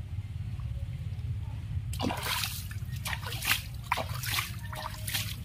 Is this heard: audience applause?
no